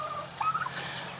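A large white domestic turkey gobbles once, a quick warbling rattle of moderate loudness heard close by over a steady background hum.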